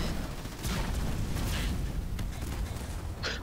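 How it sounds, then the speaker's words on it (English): Repeated small explosions in the video game Halo Wars 2, muffled booms and bursts rumbling over a continuous low battlefield din, several distinct blasts spaced a second or so apart. "I was wondering what those little explosions were"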